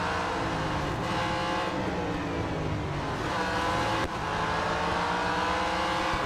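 Race car engine in a racing video game revs loudly and steadily, a continuous roar that rises and falls through gear changes with a brief dip near the end, heard alone without talk.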